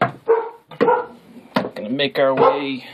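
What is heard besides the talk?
dog barking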